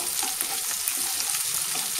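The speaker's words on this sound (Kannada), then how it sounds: "ಒಂಚೂರು ಫ್ರೈ ಆಗಬೇಕು ಈರುಳ್ಳಿ," Garlic and onion frying in a pan for a pepper chicken fry, giving a steady close crackling sizzle with no talk.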